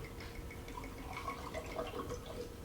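Water pours into a glass with a steady trickling and splashing that lasts throughout, close and moderately loud.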